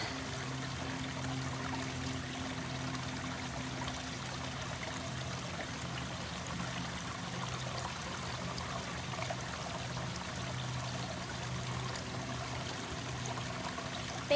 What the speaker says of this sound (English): You getting a drink of water